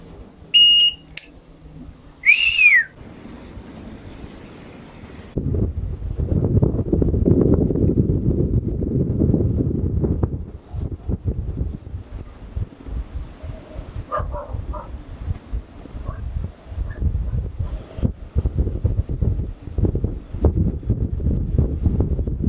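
Steady wind at sea aboard a sailboat with the engine off buffets the microphone in heavy low rumbling gusts, with a few brief high beeps near the start and faint knocks underneath.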